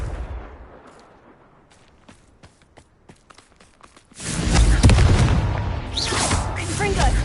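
Confringo spell explosion in the Hogwarts Legacy video game: after a few sharp, sparse clicks and taps, a loud booming blast erupts and rumbles on, followed by a second burst of crackling impact.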